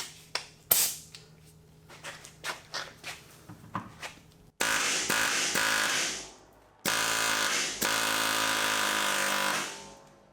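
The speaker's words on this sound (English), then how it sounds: "Air hammer." Several sharp clicks and short bursts, then two long, loud, rattling pneumatic air hammer blasts close by, used on a mushroomed part during old axle removal.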